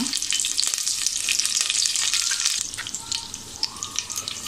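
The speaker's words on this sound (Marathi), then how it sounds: "कढीपत्ता" Curry leaves crackling in hot oil inside a heated pressure cooker, giving a loud, dense, close sizzle that spits steadily at first and then eases into a softer hiss with scattered pops.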